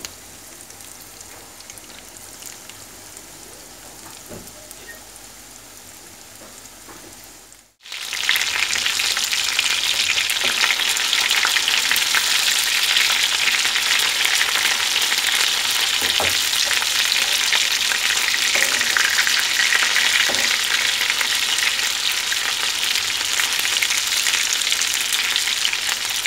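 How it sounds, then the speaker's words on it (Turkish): Chicken schnitzels frying in hot oil, a dense steady sizzle that jumps louder after a brief pause partway through, then crackles evenly and close for the rest, with no voices. "tavuk şinitsellerimi kızarttım önlü arkalı gördüğünüz üzere"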